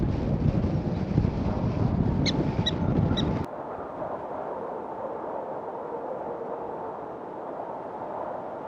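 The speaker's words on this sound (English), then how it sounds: "it's one of those cold, windy days" Wind gusts roar across the microphone at a free campground near the Badlands on a cold day, a dense rushing noise that is loud at first and then steadier and softer.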